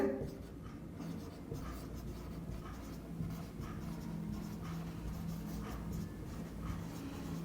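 Pen or marker writing a geometry formula for the surface area of a cube by hand, a steady soft scratching and tapping that runs throughout at moderate level with no voices.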